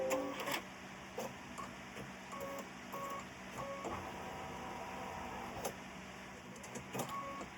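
An embroidery sewing machine stitches with a quiet, steady mechanical hum and repeated short whirring pulses, faint and close, with a few louder clicks.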